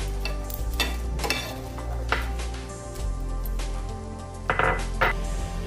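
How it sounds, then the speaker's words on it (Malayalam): Roasted dried red chilies are scraped and stirred out of a pan while cooking chutney, making close, repeated scraping and light metallic clinks against a faint background sizzle. "അപ്പോൾ ഇതേ മുളക് ഇവിടെ റോസ്റ്റായി വന്നിട്ടുണ്ട് നമുക്കിത് പാനിൽ നിന്ന് മാറ്റാം"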